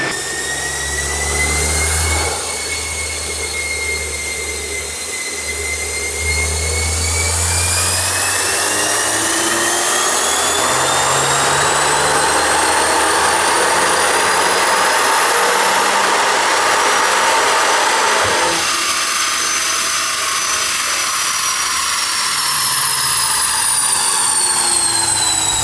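A Volkswagen Golf R MK8 engine roars through a sustained dyno pull, its pitch climbing steadily for the full run, with a loud turbo whine and drivetrain drone throughout and no speech.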